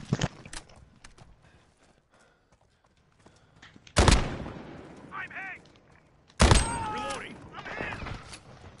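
Shotgun blasts boom in Modern Warfare multiplayer, two loud, sharp shots several seconds apart, each trailing off with ringing game effects amid quieter gunfire and footsteps.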